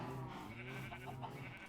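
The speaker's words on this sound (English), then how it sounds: "this is where we keep all of our sheep" Sheep in a blocky Minecraft survival world's automatic shearing farm give a short, fairly loud bleat. It stands against a steady background hum with no talking.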